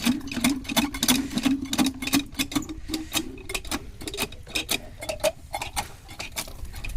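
An Asia power tiller engine being cranked and sputtering, with a quick run of uneven mechanical knocks and clicks close by and a faint hum early on.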